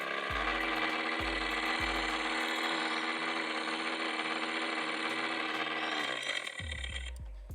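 A synthetic motorbike engine sound from an electric scooter's speaker drones steadily with a few low thuds, then revs and sputters near the end, loud and close with no talking.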